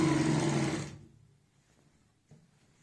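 A sewing machine runs a steady seam along a salwar, loud and continuous for about a second before stopping, leaving quiet handling noise.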